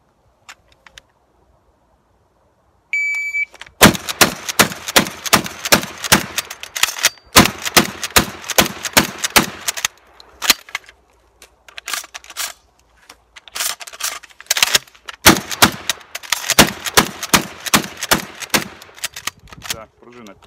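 Rapid bursts of shotgun fire, loud and sharp, firing in long fast strings with brief pauses between volleys, echoing outdoors.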